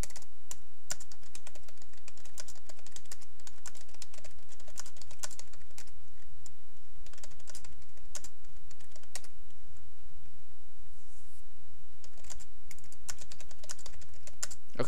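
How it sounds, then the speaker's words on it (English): Steady clicking of keys on a computer keyboard, rapid irregular taps close to the microphone, with brief pauses between bursts. "I'm typing to you."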